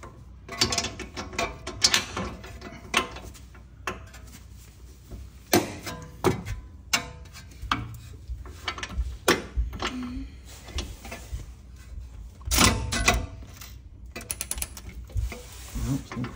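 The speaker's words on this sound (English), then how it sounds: "Couple more turns of this, and then we can get in there with our ratchet driver" A ratchet driver clicks in quick, irregular runs while coilover bolts are turned on a BMW M2, M3 or M4 during a suspension install. Close, sharp mechanical ticks repeat steadily with brief pauses, alone without talk.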